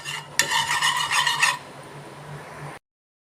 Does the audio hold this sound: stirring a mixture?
yes